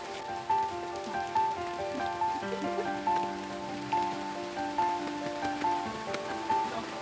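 Rain falling steadily on a surface by Lake Leonard, a dense even patter with no voices, while a faint tonal hum lingers beneath the downpour throughout.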